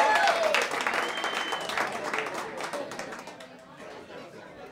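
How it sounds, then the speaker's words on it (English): Audience applause and cheering from a crowd at a Christmas music show at The Bitter End in New York, loud at first and gradually fading over several seconds, with some voices mixed in. "You guys give a round of applause for Mario."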